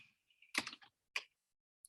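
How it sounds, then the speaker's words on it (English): Typing on a computer keyboard: a few short, close bursts of keystrokes with quiet gaps between them. "I'm using the wrong keyboard."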